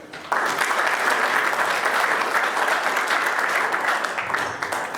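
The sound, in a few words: audience applause at auction event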